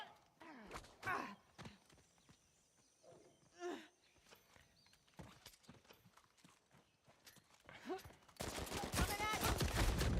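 Bursts of gunfire ring out in a video game, scattered shots and a dense volley building near the end, with brief voices talking in between.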